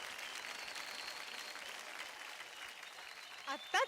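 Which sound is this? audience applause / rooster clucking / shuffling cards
audience applause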